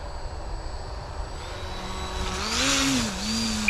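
A Hobbyking model paramotor's electric motor whines in flight as the throttle opens, a thin buzzing tone rising and wavering in pitch over steady wind noise, heard from a distance.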